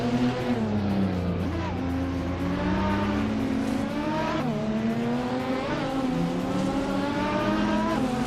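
Race cars, including a 2004 Chrysler Viper GTS R, roar around a track in a continuous droning engine chorus, pitches repeatedly climbing with acceleration and dipping at shifts, loud and sustained throughout.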